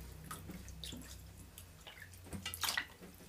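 Small splashes and drips of water sound as freshly caught desi fish are rinsed by hand in a large plate, faint and close with no talking.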